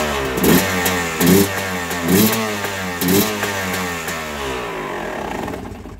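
A Yamaha YZ250 two-stroke motorcycle engine with a Lectron Billetron 38 carburetor revs repeatedly in short bursts over a rough, throbbing idle, loud and close, with no voices.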